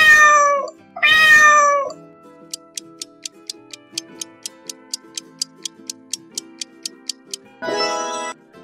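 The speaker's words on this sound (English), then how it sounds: "Cat. It's correct answer." Two drawn-out cat meows, then a steady clock ticking about once per second, ending with a third meow.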